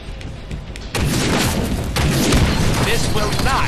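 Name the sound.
grenade explosion in the video game Deadpool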